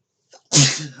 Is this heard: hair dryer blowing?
no